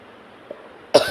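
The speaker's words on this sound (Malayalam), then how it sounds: "ചുമ" A single sharp cough from someone who mentions a slight cough, bursting out loud near the end after a faint quiet stretch with only a tiny earlier sound.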